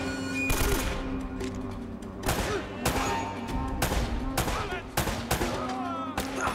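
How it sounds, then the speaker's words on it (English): Bursts of gunfire ring out in the Uncharted: Drake's Fortune video game, a series of sharp, loud shots and short volleys over a steady background score, with some voices mixed in. "Where did that gunshot come from?"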